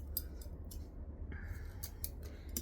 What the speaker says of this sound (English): I'm just going to cut it off now while it's here.